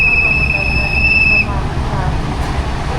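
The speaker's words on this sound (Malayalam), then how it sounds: "അങ്ങനെ നമ്മുടെ ട്രെയിൻ വരുന്നുണ്ട്" A train pulls in at a railway station: a loud, steady low rumble with a sharp high squeal of wheels or brakes for the first second and a half, then continuing rolling noise.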